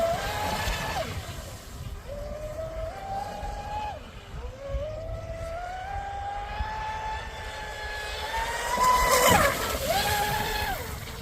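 A Traxxas Spartan radio-controlled speedboat on 8S with a 1650Kv six-pole motor whines steadily on water, pitch rising and falling as it speeds up and slows, over a rushing outdoor background, distant then closer.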